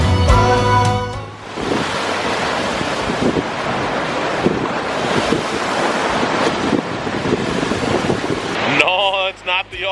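Waves on Lake Superior at Duluth, on the Wisconsin shore, surging loudly as a close, continuous wash, with heavy wind buffeting the microphone. Music sounds briefly at the start, and there are short tonal sounds near the end.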